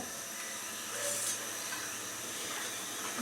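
A covered pot of food on a stove, a traditional Manikganj home recipe, coming up to a boil: a steady close hiss of steam and bubbling with no talk.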